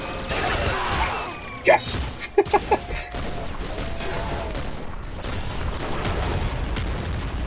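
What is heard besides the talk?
ultra shotgun firing in the video game Nuclear Throne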